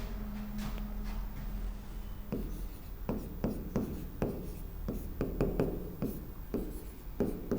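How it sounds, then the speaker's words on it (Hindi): Pen or chalk scratching out handwritten notes, a series of short rhythmic strokes and taps close by over a steady room hum, with soft voices at times. "नोट लिखेंगे।"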